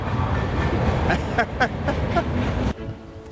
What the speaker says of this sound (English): And of course you can hear the train in the background.